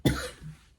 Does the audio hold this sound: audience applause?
no